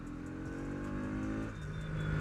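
A Bajaj Pulsar NS200 motorcycle engine drones steadily while riding in city traffic, a close continuous harmonic hum with a slight pitch change midway and no talking.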